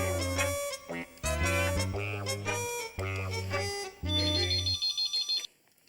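A telephone ringtone plays after a number is dialled, a loud electronic melodic tune in repeating phrases that cuts off near the end, with no voices over it.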